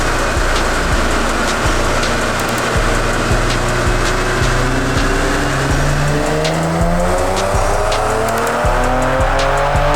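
An all-wheel-drive Infiniti Q60's engine roars under hard acceleration, pitch climbing steadily through repeated rising sweeps between gear shifts, loud and close inside the car.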